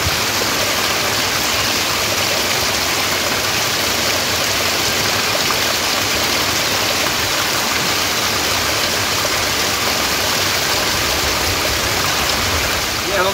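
Water pours steadily and loudly from the Gomukhi spring spout at Takshesvar Mahadev near Bhanpura, Madhya Pradesh, a constant dense rush of flowing water with no pauses.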